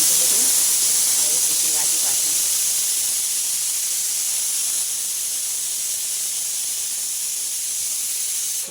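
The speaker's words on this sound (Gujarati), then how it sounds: "કુકરમાં સીટી આવે છે" A pressure cooker holding moth beans vents its whistle, a loud steady hiss of steam that holds strong and slowly eases, with faint talk underneath at the start.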